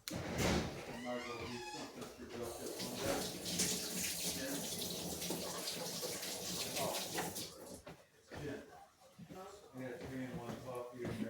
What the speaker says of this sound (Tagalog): maghugas muna ako ng kamay